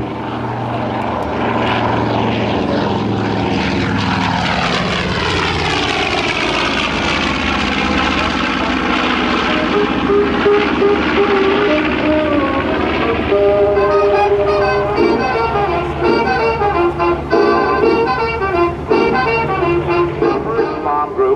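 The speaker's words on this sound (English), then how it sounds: "I give you the North American B-25 Mitchell bomber" North American B-25 Mitchell bomber Panchito flying past with its radial engines, a loud sustained propeller drone that rises and shifts in pitch as it passes, filling the whole stretch at an air show.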